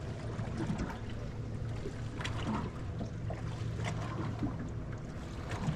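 Small waves lap and slosh against a fishing boat on Pewaukee Lake, a steady watery wash close by mixed with light wind buffeting the microphone.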